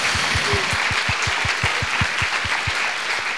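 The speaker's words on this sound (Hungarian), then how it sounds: "Nagy tapsot kérek szépen neki." Studio audience applause on a live talk show stage, steady, full clapping from a crowd that continues throughout, with a host's voice faintly underneath.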